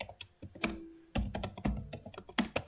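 Keys clatter on a computer keyboard during a Linux shell lab, irregular bursts of crisp clicks and a few heavier thumps, with a brief pause before a rapid run of typing, close and moderately loud.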